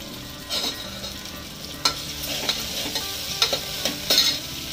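Chopped tomato goes into a hot pan for keema with gawar, giving a steady low sizzle with scattered scrapes of a spoon stirring, close and alone without voices.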